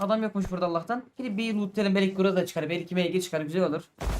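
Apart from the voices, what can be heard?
No everyday noises stand out.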